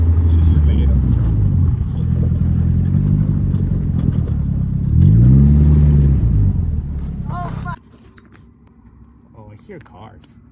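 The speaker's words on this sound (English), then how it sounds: "Oh, I hear cars." Car engines rumble loudly and rev up close during a street drifting session, with tones rising and falling, then cut off abruptly to a quiet background with a brief voice.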